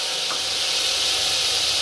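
Onion paste hisses and sizzles steadily in a hot pan while chickpea curry is cooked, a constant bright frying sound with no voices.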